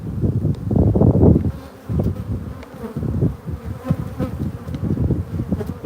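Honey bees swarm and buzz in an open hive, a close, dense, fluctuating drone with bursts of louder buzzing and faint rustling throughout.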